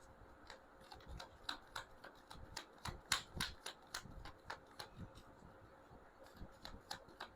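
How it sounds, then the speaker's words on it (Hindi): Tarot cards riffle and tap in quick irregular bursts of crisp clicks, close and fairly quiet, with no voices over the shuffling. "मैं शफल कर रही हूँ।"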